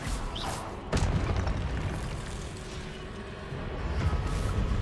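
Expelliarmus cast in the Hogwarts Legacy video game: a sharp burst near the start rises over a dense, continuous wash of game sound that swells again toward the end.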